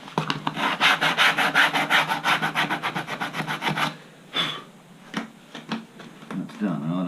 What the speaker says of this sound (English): light sand,